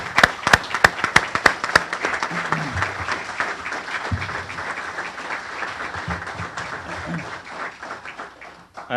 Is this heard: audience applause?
yes